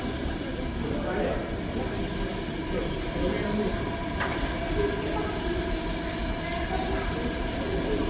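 A New York City holiday nostalgia train sits at a crowded station platform, its steady loud rumble and hum filling the whole stretch while people murmur and talk nearby.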